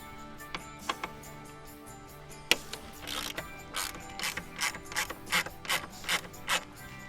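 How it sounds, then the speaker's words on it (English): Torx T40 driver working screws out of a Jeep cowl, a close series of quiet ratcheting clicks and short rubbing turns that grow more regular toward the end, with no voices. "for that we're going to use just the regular Jeep Torx T40"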